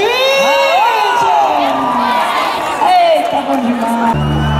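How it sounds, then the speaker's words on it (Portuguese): Crowd cheering and whooping at a rodeo festival show in Matão, São Paulo, loud and continuous, with voices over the cheering. "Uma salva de palmas, gente, Renan Rochinho!"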